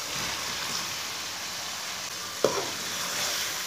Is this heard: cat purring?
no